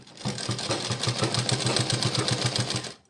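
An electric sewing machine stitches piping onto the neckline of a blouse, a fast, even run of needle thumps with a motor whir underneath, close up, starting and stopping within about three seconds.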